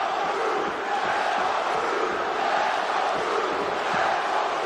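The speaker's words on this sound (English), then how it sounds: "there's definitely competing cheering going on" A large arena crowd at a mixed martial arts bout, Dominick Cruz against Urijah Faber, roars in a dense, steady wash of cheering and shouting that holds at full loudness throughout.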